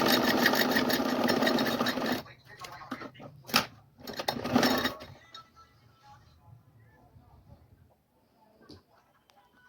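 A sewing machine stitches the seam of a cloth cap with a busy, rattling whir for about two seconds. Several shorter bursts of stitching follow, then the scene fades to faint background noise.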